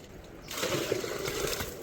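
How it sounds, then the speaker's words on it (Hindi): Water from a pipe starts pouring into a drum for cattle, a sudden onset of steady splashing and gurgling that continues close by. "ये देखो जब भी हम पानी ऑन करते हैं ऊपर से तो ये ड्रम भर जाता है"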